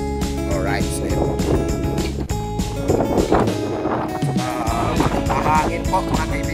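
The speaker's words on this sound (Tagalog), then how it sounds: "Mahangin po mga kaibigan." Steady wind buffets the microphone in a continuous roar while glass is being fixed, with a voice speaking over the gusts.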